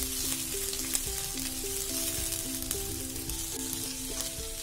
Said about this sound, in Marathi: आपण कांदा घेतलाय चौकोनी आकारामध्ये. आता थोडंसं परतवून घ्यायचे.